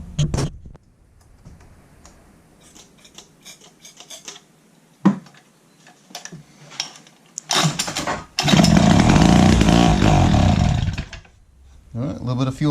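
A Pioneer 620 chainsaw being worked on, with close clicks, rasping pulls and short sputters, then the engine fires and runs loudly at a rough high rev for a few seconds before cutting out and sputtering again, with someone speaking at times.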